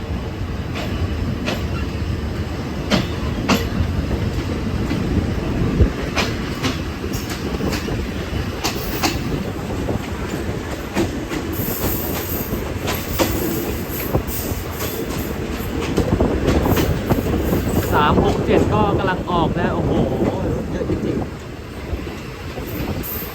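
A Thai SRT passenger train with a third-class carriage pulls through a station platform, loud continuous rumble with rhythmic wheel clicks and brief squeals, building in intensity later on.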